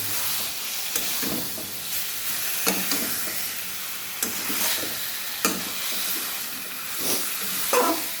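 Chicken sautés with spices in a pan, giving a constant close sizzle broken by repeated scraping stirs at irregular intervals, with no voices.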